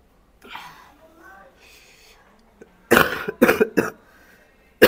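A person coughs after eating a spicy Jolo chip, several loud, harsh bursts in a close run near the end, following quieter murmured talk and breathing.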